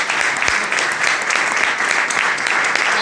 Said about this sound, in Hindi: तो जोरदार ताली उन्हें